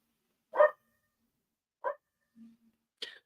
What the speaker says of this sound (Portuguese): Meu cachorro está muito bravo.